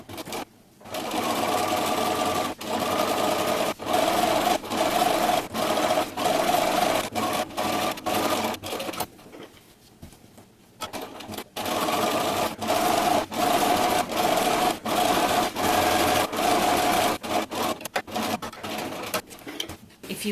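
A sewing machine stitches a big X across a fabric fall placemat, running in long steady bursts of rapid whirring clatter with a brief pause partway through.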